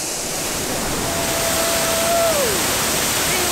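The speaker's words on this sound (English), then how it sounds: "We love waterfalls!" A waterfall along a hiking trail gives a steady, loud, broadband rushing roar that stays even throughout, with no voices.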